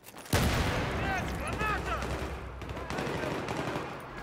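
Rapid bursts of MP7 submachine gun fire in Battlefield 3 on the Metro conquest map, a loud sudden opening volley followed by repeated shots with electronic chirps, fairly close.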